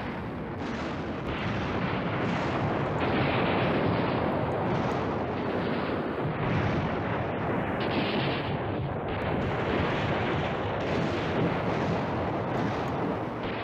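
Artillery fire in the wartime strategy game Command Ops 2, a dense, continuous roar of rumbling barrages and overlapping booms that stays loud and steady throughout, with no pauses and no voices.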